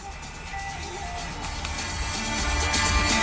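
Music plays from the stereo inside a white 2013 BMW X5 35i AWD, a steady tonal sound that grows slightly louder toward the end, with no voices.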